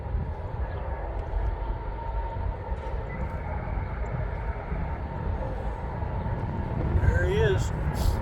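A freight train with two engines approaches at Durand, a low continuous rumble growing slightly louder from a distance, with a brief horn-like tone near the end and people talking quietly.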